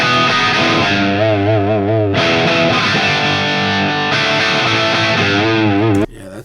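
Distorted electric guitar chords played through a Celestion Greenback speaker cabinet, close-miked and loud, with sustained, heavily overdriven chords changing every couple of seconds before a brief quieter ending.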